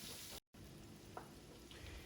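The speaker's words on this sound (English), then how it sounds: "It's going to nicely fry up with a bunch of beautiful thyme." Shallots and garlic frying in nearly half a kilo of butter with thyme for a pâté, a steady soft sizzle with a brief break and a faint tick of a utensil, heard close.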